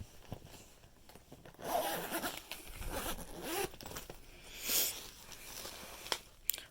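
A zipper pulled open on a side compartment of a Disney pin display bag, a quiet close rasp in a couple of short runs, with handling rustle around it and no talk.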